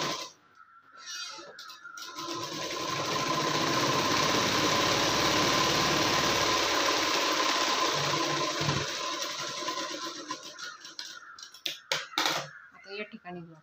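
An electric sewing machine stitches a blouse, running in one continuous close whirring burst for several seconds, with brief starts and stops at the beginning and end.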